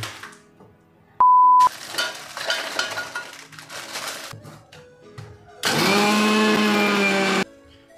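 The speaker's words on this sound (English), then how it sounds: "पार्ले जी biscuit लेना है और उसे क्रश करना है प्लास्टिक कवर निकाल के." Parle-G biscuits with the plastic wrapper removed, crushed to powder in an electric grinder: a loud steady whirring grind with scraping, after a short beep and stretches of softer rattling in a kitchen.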